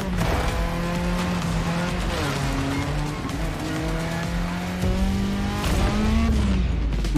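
Car drifting in The Crew Motorfest, a loud roaring engine with long sustained tire squeal sliding in pitch, continuous and close, with a brief surge of revving near the end.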